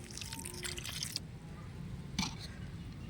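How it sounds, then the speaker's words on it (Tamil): Rice-washing water trickles onto plant soil in a garden, a soft pouring dribble through the first second, then a brief splash of water near the two-second mark, fairly quiet and close. "அடுத்து இந்த அரிசி கழுவின தண்ணி அதை ஊற்றி விட்டுருவோம்."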